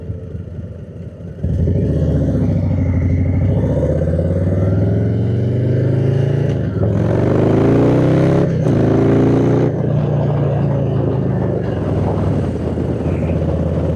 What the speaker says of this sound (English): Hey, we got motorcycles everywhere today.